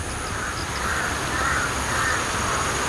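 A large flock of crows caws steadily at a moderate distance, many overlapping calls merging into a dense, continuous chorus with no talk over it.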